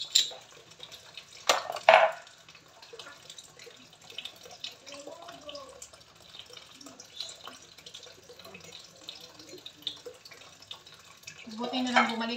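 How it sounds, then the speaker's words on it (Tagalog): Dishes clink and water trickles from a tap in a sink, fairly quiet and close, with a few sharper clatters and some talking mixed in. "Buti na lang bumalik yung daloy ng tubig. Ayan, nakapaghugas na ako ng diretsa."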